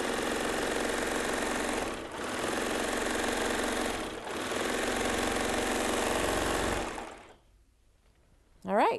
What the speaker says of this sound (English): So just do the seam again, bring that blade far enough over so now you're cutting off the previous seam.